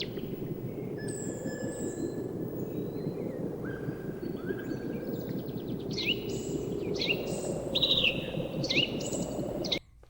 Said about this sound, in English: some kind of weird ambient helicopter thing going on in the background, birds going on